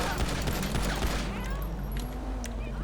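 A rapid burst of gunshots cracks in quick succession for about a second, then stops, leaving faint background noise.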